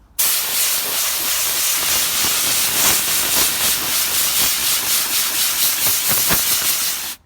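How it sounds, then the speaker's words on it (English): Compressed air blasting through the air filter of a Landini tractor during an engine service, a loud, steady hiss that roars for about seven seconds, then cuts off abruptly. "now time to blow out the air filter"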